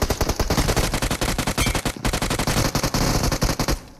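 Rapid automatic gunfire in PUBG Mobile, loud bursts of closely spaced shots rattling continuously for several seconds before trailing off.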